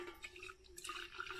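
Hot water, boiled with jackfruit heartwood, poured onto a glued label: a faint close trickling and dripping splash with a steady watery tone, lasting just over a second.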